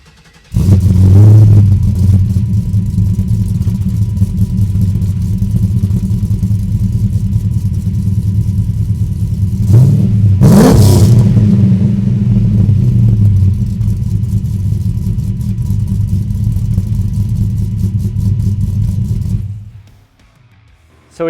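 A custom car's engine idles loudly up close, with a sharp rev burst in the middle before settling back to a steady rumble and cutting off near the end.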